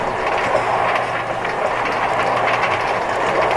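Train ride in a Minecraft amusement park, Funland III: a continuous rolling rumble with a faint rhythmic clatter and hiss holds steady and close throughout, with no talk over it.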